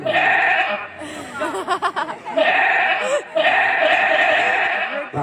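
Loud, drawn-out bleats from a captured goat held close by in a village, two long wavering cries separated by a short burst of shaky calls, with faint human voices in the background.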